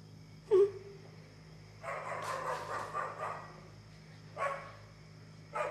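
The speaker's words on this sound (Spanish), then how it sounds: "Algo le pasa a los perros." Dogs barking at night, a sharp single bark near the start followed by a longer stretch of barking and yelping, then another short bark burst near the end, moderately loud over a low hum.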